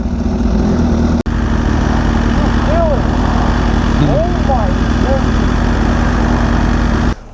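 A Kawasaki Ninja H2 motorcycle fitted with a Vandemon full exhaust system drones at a steady, loud idle, its low, even hum continuing without revving across the whole stretch.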